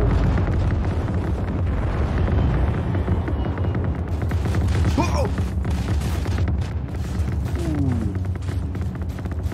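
Heavy rumbling sticky bomb explosions in Just Cause 4, a dense, roaring barrage of blasts that piles up with debris crashing around it, loud and sustained with only brief lulls, and a voice exclaiming faintly in the background.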